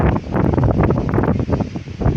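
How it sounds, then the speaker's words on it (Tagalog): Strong gusty typhoon wind buffets the microphone, roaring and rumbling in uneven surges with faint rustling underneath. "nakakatakot pa rin yung hangin"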